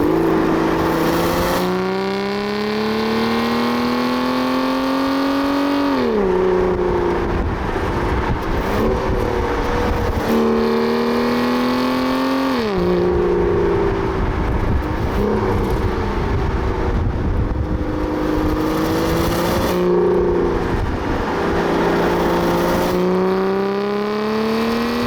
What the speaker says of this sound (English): That V12 isn't actually as bombastic as you might expect at low RPM, given its displacement.